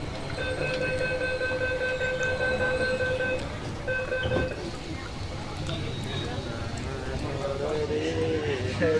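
Bangalore metro train running, heard from inside as a steady rumble with rail clatter and a brief tonal whine early on. People talk throughout.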